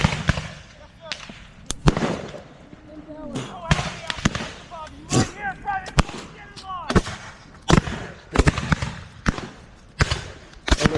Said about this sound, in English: Keep shooting, boys.